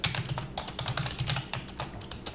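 Quick, close keystrokes on a computer keyboard while code is typed into Notepad, a steady run of sharp clicky taps with no speech.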